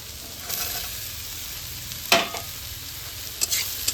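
Soybean chunks and fried potatoes being stirred in a pan, a soft steady sizzle with a few sharp scraping strokes of the spoon, close and without talk.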